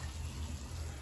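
Water poured into a pressure cooker holding chunks of elephant foot yam, a soft, steady, quiet gush lasting about a second.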